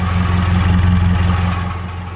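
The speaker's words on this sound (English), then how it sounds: "It's a real diesel 4-cylinder engine. It sounds like a diesel" A real diesel 4-cylinder engine with mechanical fuel injection runs in an imported 4WD with a standard transmission, a steady close clatter with a low rhythmic throb and slight variation in pace.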